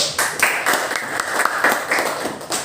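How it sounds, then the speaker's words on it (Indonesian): A small group claps hands in a classroom quiz game, a steady patter of claps lasting a couple of seconds, fairly close and loud. "Tepuk tangan dulu."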